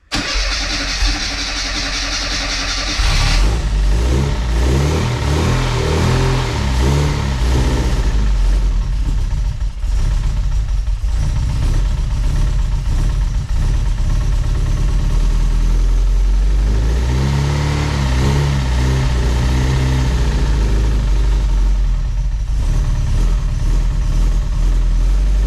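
A classic Mini's John Cooper conversion engine cranks and fires after sitting for 22 years, then runs loud and close with repeated revs rising and falling over a rough, lumpy idle.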